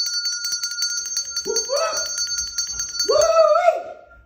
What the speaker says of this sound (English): Everybody needs this bell.